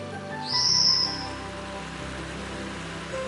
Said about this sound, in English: the Formosan whistling thrush calling in its distinctive high sharp-pitched whistle